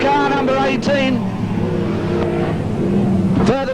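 Race cars scream down the main straightaway toward the finish, engine notes rising and falling as they pass close by, with a commentator talking loudly over the roar.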